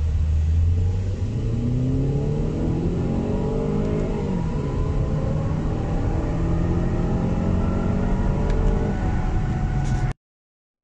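A Toyota Camry with the 2.5 engine pulls hard from a standstill on a hot day, its loud engine note climbing steadily through the gears with rising pitch sweeps, close and uninterrupted until it cuts off abruptly.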